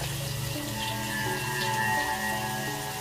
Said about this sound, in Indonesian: dari arah kamar mandi di dalam kamarku itu shower